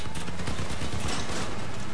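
Heavy cannon fire in the vehicle-combat game Crossout during PvP battle, a loud, dense and continuous barrage of overlapping blasts with no talking.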